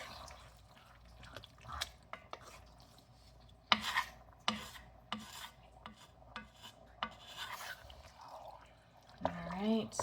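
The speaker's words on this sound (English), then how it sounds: "I'm going to go ahead and stir that into the meat." Seasoning is stirred into meat at home, producing soft rubbing and wet scraping with occasional sharper knocks, faint and intermittent, with brief sizzling near the end.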